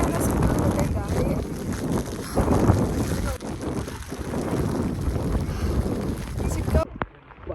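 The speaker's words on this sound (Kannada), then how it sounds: "ಸಿಕ್ಕಾಪಟ್ಟೆ ಅಂದ್ರೆ ಸಿಕ್ಕಾಪಟ್ಟೆ ಗಾಳಿ." Strong gusty wind buffets the microphone on a rainy monsoon mountain trek in Chikmagalur, a loud continuous roar with surging gusts that cuts off abruptly near the end, with faint voices underneath.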